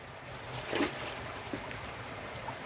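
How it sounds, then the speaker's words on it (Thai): Water runs steadily through an opened drain, a constant rushing wash with a brief louder splash partway through, heard alone at moderate distance. "น้ำยังไหลอยู่"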